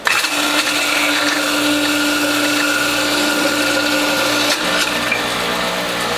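A WHF juicer crushing watermelon rind with turmeric and ginger gives off a loud, continuous grinding motor whine with a steady hum, briefly jolting once as more produce is pressed through.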